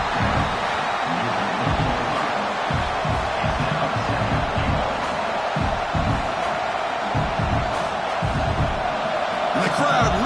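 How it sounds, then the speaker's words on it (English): A stadium crowd at a college football game keeps up a loud continuous roar as the defense tries for a stop near the goal line, with thuds and whoops in the mix and a commentator talking over it throughout. "the crowd really making some noise now, trying to help out this defense to get this stop near the goal line"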